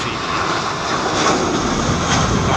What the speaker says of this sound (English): Finish out with this DHL A300 freighter. It's going to go up like a skyrocket.